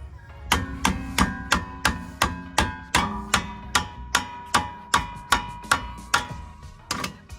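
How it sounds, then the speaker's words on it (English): A rubber hammer strikes the brake assembly of a 2012 Mazda 3 Skyactiv 2.0 in a steady run of about fifteen hard, evenly spaced blows with a metallic ring, loud and close with no talk. "Always use a rubber hammer."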